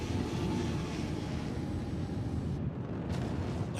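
Spaceship from a video game streaking at high speed through atmosphere: a steady, loud, broadband roar with rumbling low end that holds throughout, briefly thinning near the end before surging back.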